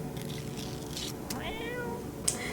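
A cat meows in the video game No I'm Not a Human, several short, fairly clear mews over a low steady background hum.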